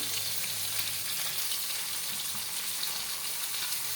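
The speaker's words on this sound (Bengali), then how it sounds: "কালো জিরে ফোড়ন দিচ্ছি গোটা কালো জিরে" Whole black cumin seeds tempering in a little hot oil for a fish-oil curry: a constant, hissing, fine-grained sizzle up close, unbroken and without talk.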